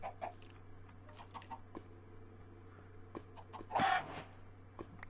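Chicken clucking in the video game Minecraft, a few short clucks and a brief louder squawk near the end over a steady low game hum, with faint scattered game sounds around it.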